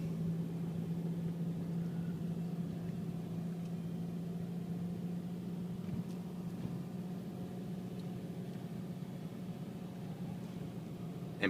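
A car engine runs close by with a steady, even hum that holds at one level throughout, with no voices.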